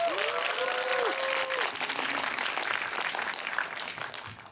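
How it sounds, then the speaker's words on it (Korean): An audience at a talk-concert lecture applauds, a dense, loud, sustained clapping from a crowd with a voice briefly speaking over the start. "큰 박수 부탁드립니다"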